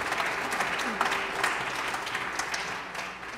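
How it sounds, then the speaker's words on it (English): Steady applause from an audience after a jazz trio's afternoon concert, a dense, sustained wash of clapping with a few louder individual claps standing out, filling the whole stretch without pause. "let's give her a round of applause"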